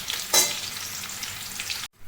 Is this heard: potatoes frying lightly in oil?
yes